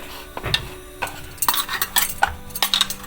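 Gulab jamun dough being stirred and mixed with flour using a spoon in a bowl, giving a series of soft scraping and clinking strokes at close range with short pauses between them.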